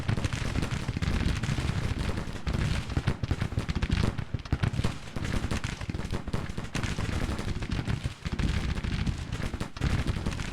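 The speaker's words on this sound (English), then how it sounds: "So now we get the 41st Alabama firing with their full volleys from their men" Full volleys of Mississippi rifle fire from the 41st Alabama in the Grand Tactician Civil War game crackle as a dense, continuous stream of distant overlapping musketry shots, rolling on without pause.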